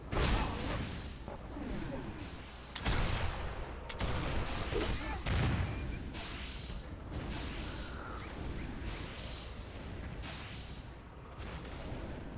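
A Nurgle cannon fires again and again in a game. Deep, heavy booms repeat at irregular intervals over a dense, rumbling battle din, with people talking underneath.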